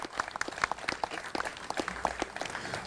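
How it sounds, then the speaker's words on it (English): Scattered applause from a crowd at an outdoor bridge dedication on a Wilmington, Delaware riverfront, with separate sharp hand claps in an uneven rhythm, moderately close and fairly thin. "Another nice round of applause."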